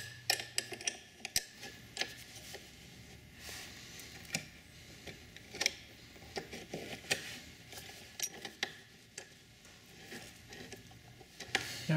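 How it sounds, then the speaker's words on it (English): Flange nut being tightened on a 2018+ Honda Goldwing fog light mount with a screwdriver while a 10 mm wrench holds it, giving irregular small metallic ticks and clicks up close. "Now here I'm using a 10 millimeter wrench to hold that flange nut in place while I use the screwdriver to tighten it down"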